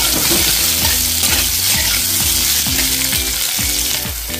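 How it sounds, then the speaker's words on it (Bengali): Cut potato frying in a pan with lightly fried cumin seeds for a vegetarian pumpkin dish, giving a loud, steady close sizzle with repeated rhythmic scrapes of stirring and no voices. "এবারে এর মধ্যে আমি দিয়ে দিচ্ছি একটা কেটে রাখা আলু, দিয়ে আলুটাকে ফ্রাই করে নিতে হবে"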